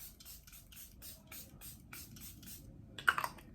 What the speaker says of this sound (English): Now I'm going to take the Charlotte Tilbury Airbrush Flawless Finish Setting Spray and spray that all over.